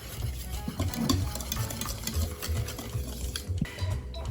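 A whisk rattles rapidly and rhythmically against a bowl, mixing dry flour and sugar for pancakes in a quick, close, steady stream of light ticking strokes.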